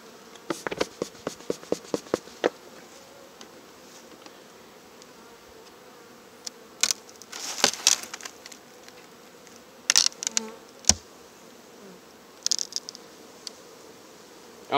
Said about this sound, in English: Good bunch of bees.